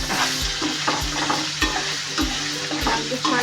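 Paneer frying with salt in a pan, a loud continuous sizzle broken by rhythmic spoon scrapes and knocks against the pan, close and alone.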